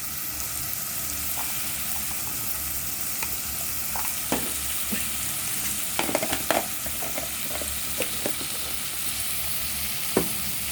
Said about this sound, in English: I have some grated ginger here, which I'm going to add.